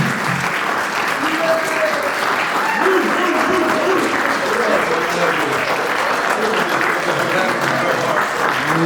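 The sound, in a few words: audience applause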